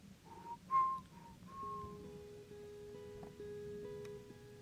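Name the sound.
whistled melody imitation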